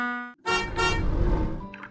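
Electronic horn and melody blasts come from a transforming Peppa Pig toy cruise ship as it sets sail, loud and close after a brief toot.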